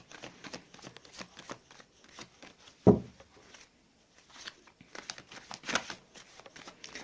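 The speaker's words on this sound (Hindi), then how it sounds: "मैंने कर ली है कार्ड्स की सफलिंग" Tarot cards being shuffled by hand in a quiet room, a soft papery riffle and patter with one sharp snap near the middle, no voices.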